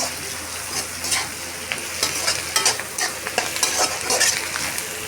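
Capsicum, onion and chilli flakes stir-fry in a pan with a loud, crackling sizzle, broken by repeated scraping stirs and spatula clicks in an uneven rhythm.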